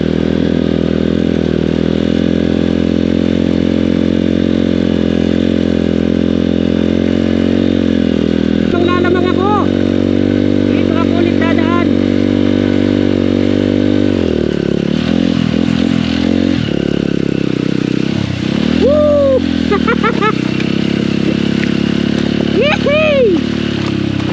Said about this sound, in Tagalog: Lumulubog yung mga motor namin.